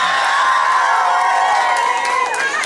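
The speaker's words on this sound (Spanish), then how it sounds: "aplausos para la número uno" A crowd at a Zumba competition during a Latin American weekend festival in Stuttgart cheers and whoops continuously, with dense shouting voices filling the space and a little clapping mixed in.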